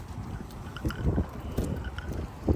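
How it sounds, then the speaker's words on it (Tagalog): Cold wind sweeping through the California desert near Joshua Tree, low rumbling gusts buffeting the microphone in uneven bursts, fairly quiet overall. "mahangin pa."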